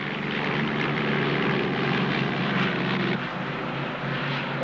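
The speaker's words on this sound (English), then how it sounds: "It's the plane!" A propeller airplane flies overhead with a loud, steady, close droning engine roar that fills the whole stretch and barely changes.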